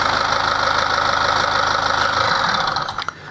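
A BMW car's diesel engine idles steadily with a low, even knocking rumble, close and loud, then briefly falters near the end.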